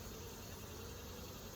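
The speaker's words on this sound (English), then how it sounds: "there's a whole lot of freaking bees in this hive" Bees crowded inside a packed hive from a swarm colony give off a thick, constant droning hum that stays level for the whole short moment, close and unbroken, with no talking.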